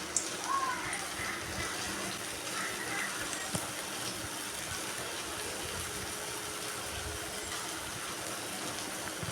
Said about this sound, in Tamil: ஆயில் நல்லா காயிட்டும். நல்லா காஞ்சிடுச்சு. நம்ம ஒவ்வொன்றா போட்டுக்கலாம்.